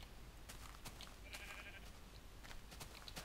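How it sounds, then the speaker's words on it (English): Sheep in Minecraft bleat in a few short, thin calls over a steady faint hiss, with no talk. "Yes, they are normal sheep."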